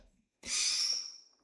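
A single sharp, shrill squawk from a pet bird indoors, close and fairly loud, rising suddenly after a short silence and fading within about a second.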